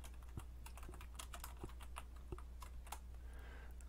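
Quiet, quick keystrokes on a computer keyboard come in an irregular patter of soft taps, close and faint, with no talking.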